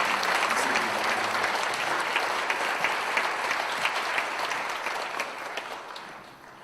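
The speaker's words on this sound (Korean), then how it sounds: "우리 격려의 박수 한번 드리겠습니다." A church congregation gives warm, steady applause at a Korean worship service, dense clapping filling the room and gradually tapering off at the end.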